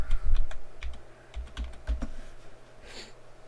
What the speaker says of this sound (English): Let's just type in micro. I typed that wrong.